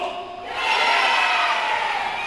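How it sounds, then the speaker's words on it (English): Wrestling crowd at a live WRESTLEFORCE show in Tadley rising into loud, sustained cheering and shouting that swells after a quieter start. "And now the crowd coming alive."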